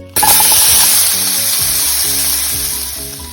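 Onions hit a hot pan for crispy Beijing beef and erupt into a loud, sudden, sustained sizzle that stays strong and close with a low rumbling undertone and no talking.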